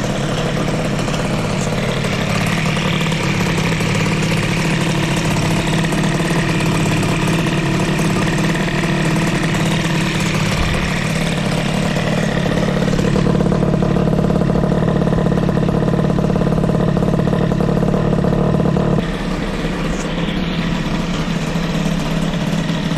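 An engine fitted with a Doppler Re-BOOSTed exhaust and a small Genelli carbon silencer idles steadily, a loud, close, even low rumble with a faint high buzzing note, continuous for over twenty seconds with no talk.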